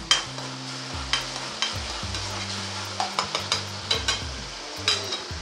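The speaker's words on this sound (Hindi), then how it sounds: "और अब थोड़ी देर तक टमाटर को अच्छे से भून लेंगे हम।" Chopped tomatoes frying in a pan while a utensil stirs them, a soft sizzle broken by repeated scraping and clinking strokes at an irregular pace, close and fairly quiet.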